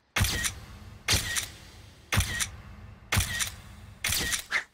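Five crisp camera shutter clicks from a selfie in a cartoon, each a loud snap with a short mechanical whir, spaced about a second apart.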